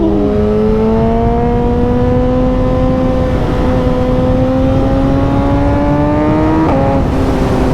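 A powerful motorcycle engine revs hard during a road ride, its loud droning whine climbing steadily in pitch with a brief dip near the end, close and constant throughout.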